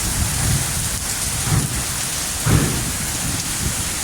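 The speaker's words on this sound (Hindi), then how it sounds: "दोस्तों बारिश तो बहुत सारी है" A heavy downpour in Jeddah, Saudi Arabia roars steadily and loudly, with several low thunder rumbles and thuds rising out of the rain at intervals; no voices are heard.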